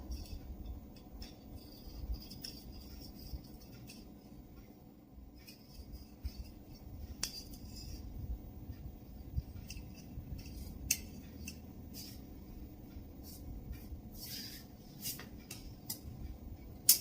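Scissors snipping through lining fabric at the back neck of a salwar, a series of quiet, close crisp cuts and blade clicks scattered over a soft background hum.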